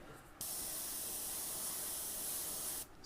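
A can of Molotow water-based candy paint in Caribe Blue sprays in one steady, close hiss lasting a couple of seconds, starting and stopping abruptly.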